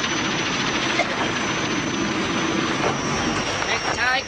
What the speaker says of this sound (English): The royal family use helicopters to visit the more isolated parts of Thailand.